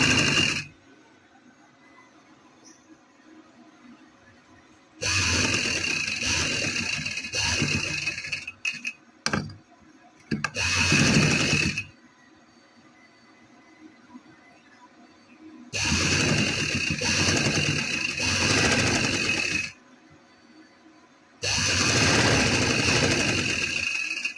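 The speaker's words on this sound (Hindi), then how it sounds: "इस तरह के ऊपर हमने सिलाई लगानी है" Sewing machine stitching a sleeve, running in several loud bursts of steady whirring separated by quiet pauses.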